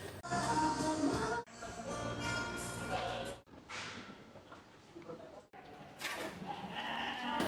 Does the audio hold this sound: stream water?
no